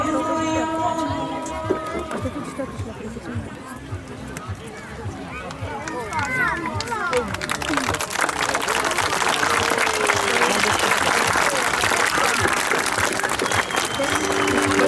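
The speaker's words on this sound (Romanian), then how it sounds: "Mulțumim foarte mult pentru aplauze." An audience at a Romanian folk theatre show in Târgu Neamț breaks into applause at the end of the performance, a dense, steady clapping that swells after a stretch of singing and music and continues loudly.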